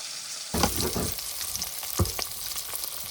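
Small hilsa fish sizzles and crackles in hot oil, starting abruptly and continuing with scattered pops and spatters, with no talking.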